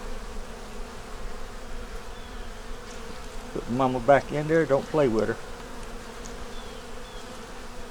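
Honey bees buzz around hive frames in a steady, low droning hum that runs throughout, while someone speaks briefly in the middle.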